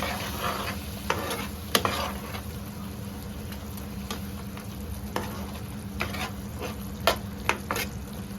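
Fresh cashew curry cooks in a covered pan over a low flame, giving a steady soft sizzle with faint bubbling and a few sharp clicks and taps scattered throughout.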